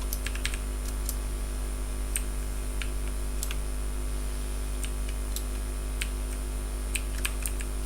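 C++ code being typed on a computer keyboard, with sparse, faint clicking keystrokes coming in small irregular clusters over a steady low hum and no speech.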